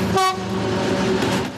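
A long train rumbles past nearby while its horn blasts once, loud and brief, over the steady roar of the passing cars.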